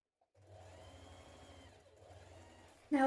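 A sewing machine running a long basting stitch on coat pieces, a quiet steady whir for a couple of seconds with a brief dip, then a sudden louder clatter at the end.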